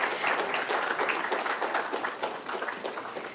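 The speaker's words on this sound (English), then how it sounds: "So a huge round of applause, please." A room full of attendees at an anaesthesia and pain workshop at a Secunderabad hospital gives a hearty round of applause, dense continuous clapping that slowly tapers toward the end.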